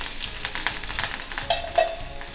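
Mustard seeds, urad dal, cumin, curry leaves and sliced ginger fry in hot oil with a crackling, popping sizzle and quick spluttering bursts.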